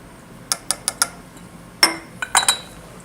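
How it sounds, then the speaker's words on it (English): A glass round bottom flask with isopropyl alcohol solvent being added in a lab, heard as a series of sharp, close glassy clinks followed by a short pouring rush and a few more taps. "Let's add this to our round bottom flask."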